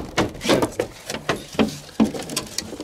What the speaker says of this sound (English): He's banging his tail against the fence.